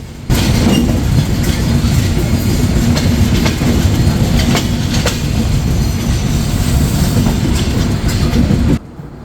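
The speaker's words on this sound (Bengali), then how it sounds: "এখন প্রবেশ করছি ট্রেনটির দ্বিতীয় স্টপেজ ঈশ্বরদী বাইপাসে" The Silkcity Express rolls into Ishwardi bypass station, heard from on board as a loud, steady rumbling roar with rhythmic clickety-clack wheel beats over the rails, cutting off sharply at the end.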